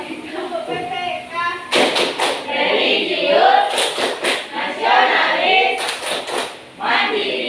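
A group claps in sharp rhythmic bursts for the PPK clap chant at a school gathering, clusters of quick claps separated by chanted words from many voices, loud and close.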